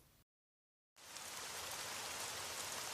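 Steady autumn rain falling and pattering on surfaces, a continuous broadband hiss that starts abruptly after a short silent gap and holds evenly loud to the end.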